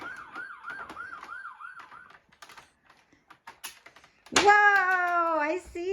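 A toy Paw Patrol fire truck sounds its siren, first a rapid warbling wail that cuts off, then clicks and taps, then a loud, steady high electronic tone near the microphone.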